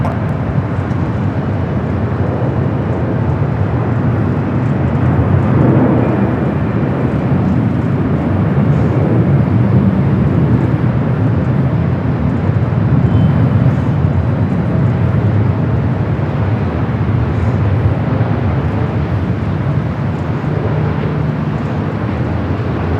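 A Delta airliner landing on runway 24 right at LAX, a sustained jet roar that swells briefly and then holds at a steady, loud level without letup.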